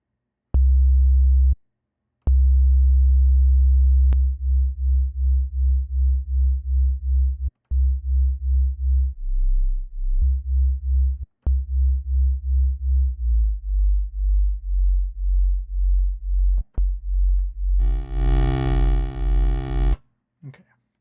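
Thick, bassy synthesizer tone played live by hand, a low buzzing drone that pulses in steady rhythmic waves and shifts pitch in steps, broken by brief gaps and a few clicks, ending with a bright, harmonically rich swell before cutting off.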